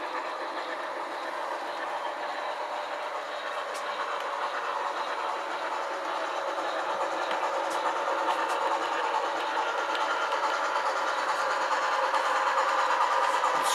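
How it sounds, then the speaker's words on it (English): An HOn3 narrow gauge model train runs past on its track, a steady close rolling rumble with faint clicking wheels that builds slightly in loudness as it nears, with no talking. "you can pick up the narrow gauge coming by"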